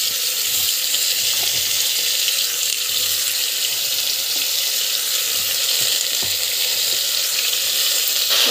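Chopped vegetables sautéing in hot oil in a pan: a steady, loud sizzle and hiss runs through the clip, with occasional light stirring clicks and no talking.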